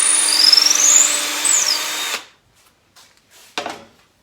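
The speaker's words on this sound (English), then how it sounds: "I'm just going to take that drill and go a little bit deeper into the leg" Power drill boring into a maple table leg: a loud, steady whine for about two seconds, then it stops, followed by faint handling noises and a brief knock, up close.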